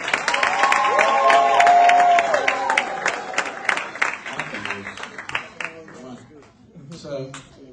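An audience at a speaking event claps and cheers loudly, with a shout standing out early on, then the crowd noise tapers off under a voice starting to speak.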